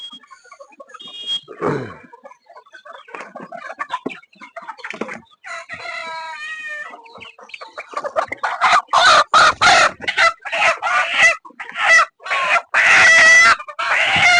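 A small Sonali rooster squawks and clucks frantically as it is caught on a poultry farm, loud and close, with agitated cries growing more intense and continuous toward the end.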